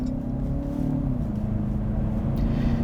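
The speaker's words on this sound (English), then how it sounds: "And if I open up the throttle" A 2019 Lincoln Nautilus accelerating at open throttle produces a steady, moderate engine hum that rises slightly in pitch, heard from inside the cabin without talk.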